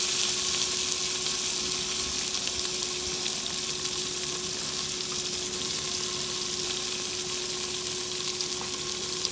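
Mutton cooking over a wood fire, giving a steady, continuous sizzle and crackle at close range with a constant hum underneath and no talk.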